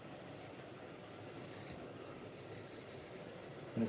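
A long double-headed model freight train runs on a layout, producing a faint, steady rumble and rolling noise with a small sharp clack at the end.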